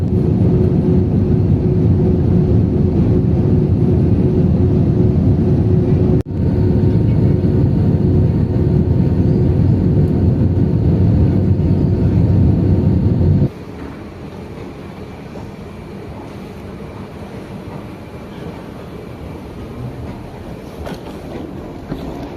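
A passenger airplane lands, heard from inside the cabin: a loud, steady low roar fills the first half, then drops abruptly to a much quieter, even hum. No one speaks.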